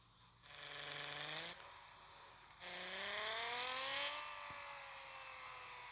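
A car in poor condition is driven slowly, its engine humming and rising in pitch through two gentle accelerations, faint and steady.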